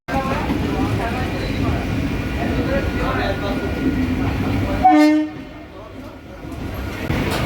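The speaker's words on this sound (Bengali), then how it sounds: "শিয়ালদা থেকে ট্রেন ছেড়ে দিয়েছে বন্ধুরা, ট্রেনে উঠে গেছি।" A train pulls out of Sealdah station, heard from on board with a loud steady rumble and clatter, a short horn toot near the middle, and people talking over it.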